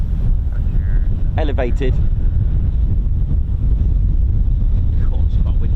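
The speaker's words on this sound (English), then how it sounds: "God, it's quite windy today." Wind buffets the microphone at the Holbeach air weapons range, a constant loud low rumble. A brief spoken word and a few faint voice-like sounds appear partway through.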